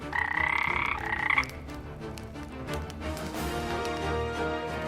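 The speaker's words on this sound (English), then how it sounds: "The room filled with croaking and hissing" A toad croaks in a rapid, pulsing sound effect for a storybook scene, loud and close for about a second and a half, then fading into a faint background wash.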